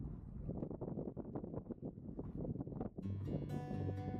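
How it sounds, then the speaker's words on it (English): Wind gusting outdoors beside a Norwegian lake, a low irregular rumble of buffeting gusts against the microphone that rises and falls in uneven waves, then gives way to a brief brighter tonal whine near the end. "Yeah, it's a little bit windy."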